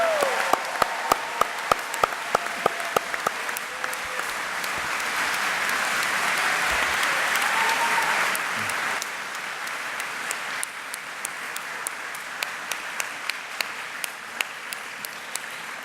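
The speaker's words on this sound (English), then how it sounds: "How about a round of applause for the class of 18?" Commencement crowd applauding the graduating class of 2018, dense sustained clapping that swells, then thins to scattered individual claps that linger and fade.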